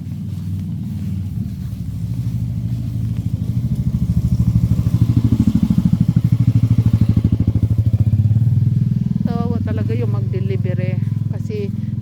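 A motorcycle engine putters steadily at low speed on a snowy road, its rapid thumping swelling as it passes, while a person talks nearby toward the end.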